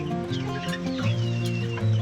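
Village chickens perched on bamboo in a Konkan poultry shed cluck steadily close by, several birds overlapping in a continuous murmur with a higher squawk rising through the middle.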